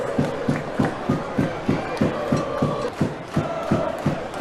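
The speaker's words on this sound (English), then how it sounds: "And the crowd are happy." Spectators at a pre-season football match at Spencer Park, Brisbane, cheer and chant after a goal, with rhythmic clapping or drumming beats repeating steadily under the crowd noise at a moderate distance.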